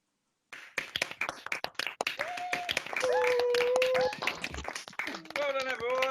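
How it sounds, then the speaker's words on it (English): A graduation ceremony audience at a School of Education claps in scattered, uneven bursts that fade and return, mixed with voices and a tonal sound like someone singing or humming. "You will now have an opportunity, a chance to applaud each other"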